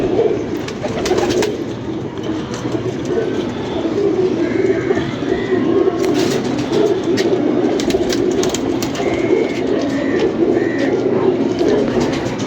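Teddy pigeons kept by a fancier coo steadily throughout, a close, continuous murmur of calls layered over a busy outdoor background with occasional brief chirps.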